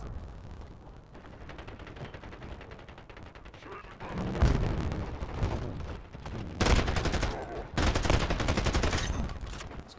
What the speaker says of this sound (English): Those shots!